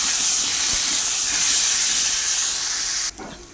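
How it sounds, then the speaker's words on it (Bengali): Potatoes frying in oil with salt and turmeric, a steady loud hiss and sizzle that holds for about three seconds before dropping abruptly near the end. "এখন আলুগুলোকে এই তেলেই ভেজে নিচ্ছি নুন আর হলুদ দিয়ে"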